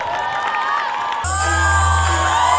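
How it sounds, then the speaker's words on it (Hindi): Loud crowd cheering and whoops erupt at a school event as a Lavani dance duet begins, with a sustained roar and a low musical drone underneath. "एक बार लावणी परफॉर्मेंस के लिए जोरदार तालियां"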